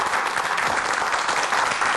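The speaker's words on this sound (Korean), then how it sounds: "오늘 재미난 강연 해주신 우리 박사님께 여러분 큰 박수 부탁드리겠습니다" A lecture audience claps for the speaker after a talk on probiotics, giving a dense, even round of applause that carries steadily throughout, with no voices over it.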